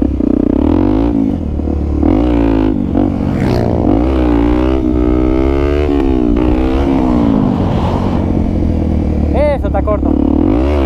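Borrowed Honda Tornado motorcycle engine running loud and steady throughout, with pitch rising and falling as it revs, and someone talking over it.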